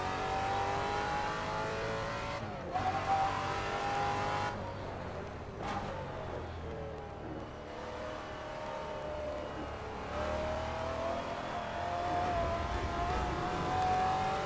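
A De Tomaso car in the Assetto Corsa racing game with a GT Legends mod, its engine droning steadily with rising and falling revs, brief gear-change dips and faint tire noise throughout, with no talking.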